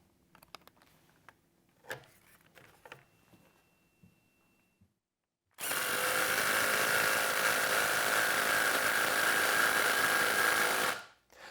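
A power drill drives screws into the stretcher of a wooden picnic table clamped with bar clamps. A few faint knocks and handling sounds give way to a loud, steady whirring run of about five seconds that then cuts off.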